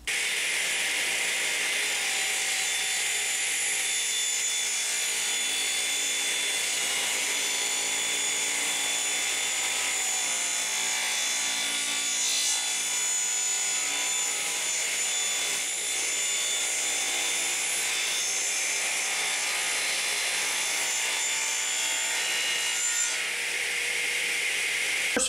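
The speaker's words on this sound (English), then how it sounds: "Now I'm going to rip a 2x4 with the Forest Woodworker 1 Triple Chip Grind Blade." A radial arm saw fitted with a Forrest Woodworker triple chip grind blade rips along a 2x4, making a loud, continuous whining cut that holds steady for the whole stretch, with no voices.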